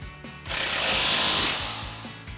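An impact wrench with a 19mm socket tightens a lower control arm bolt on a Toyota 4Runner during a Rough Country lift kit install, a loud sustained hammering burst of about a second, preceded and followed by lighter clanks.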